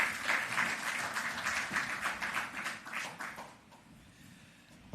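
An audience at a World Bank report launch applauds to welcome a speaker: dense, even clapping for about three and a half seconds that then thins out and fades to quiet.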